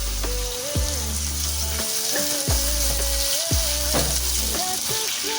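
Onion frying in oil in a cooking pot gives a steady, close, bright sizzle that runs the whole time, with a tonal hum and gliding pitches mixed underneath.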